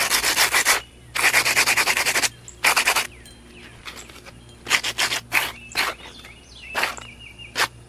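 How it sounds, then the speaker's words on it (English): A homemade Portland cement rock for a mosaic butterfly being sanded by hand. Loud, close rasping strokes come in several long bursts, then shorter, sparser rubs. "Gonna sand it off a little bit."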